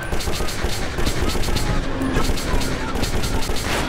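Rapid, loud gunfire from the shooter video game Metro 2033 fills the whole stretch, with dense overlapping bursts and shots cracking in quick succession.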